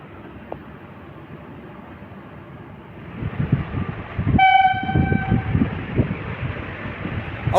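The Mettur Dam Express rumbles into Mecheri Road station on the Salem to Mettur Dam line, its clatter growing louder as a single clear horn blast sounds for about a second over the rolling wheels.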